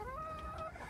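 Soft clucking from a few chickens nearby, brief murmuring calls against a windy, rumbling background on a very windy morning as they are let outside.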